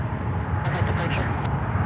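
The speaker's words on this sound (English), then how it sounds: "this is American 717 arriving here after nearly 9 hours in the air out of arriving here from Munich, Germany" An American Airlines airliner arriving from Munich, Germany, gives a steady broad jet roar at a distance, swelling in the middle of the clip, with talk over it.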